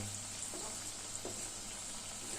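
Potato langcha sweets frying in hot oil, a steady soft hiss throughout with two faint stirring clinks, moderately close and fairly quiet, no voices.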